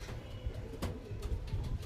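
Pigeons in a loft kept for Malbai and Madras flying breeds coo faintly, with low repeated murmurs under a steady background hiss.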